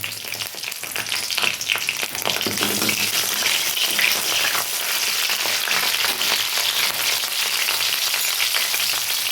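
Green chillies sizzle and fry in hot oil in a pan while cooking Bengali fish shukto, a steady dense crackling sizzle that holds loud and close throughout, with no talking.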